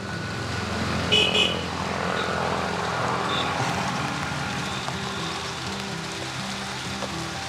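Outdoor rain falling steadily in a rural yard in Quảng Ngãi, Vietnam, a dense continuous hiss with a low rumbling undertone and a brief clatter early on, fairly loud throughout.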